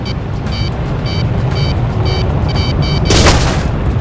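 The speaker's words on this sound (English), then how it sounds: "Launching missile." A missile launches and explodes in the video game Ace Combat 6, with repeated short warning beeps over a loud engine roar, then a sudden broadband blast near the end.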